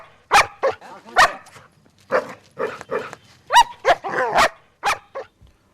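A dog barks and yelps in a loud, rapid series of sharp calls with whimpering tones between them, shown as an example of a scene where a man fears a dog and runs. No one speaks.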